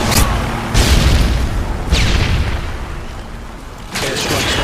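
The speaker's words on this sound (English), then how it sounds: "Airstrikes on the mark." Airstrike explosions in the video game Call of Duty Modern Warfare 2, a string of loud deep booms, about four separate blasts with rumbling tails, close and heavy.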